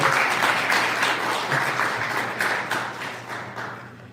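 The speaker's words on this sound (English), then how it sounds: "let's give a round of applause" Audience applause at a 1 Million Cups Detroit Metro entrepreneur event, a dense, steady round of clapping from a crowd that gradually tapers in loudness.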